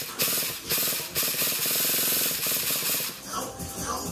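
A small engine cranks repeatedly on a weak battery while low on fuel, giving a steady, rapid mechanical chugging that is loud and close for about three seconds before it stops, and a brief spoken word comes at the start.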